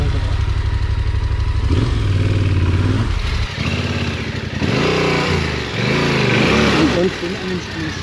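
A motorcycle engine idles and revs loud and close on a rough trail in Slovenia, with bursts of throttle and clatter while people talk over it.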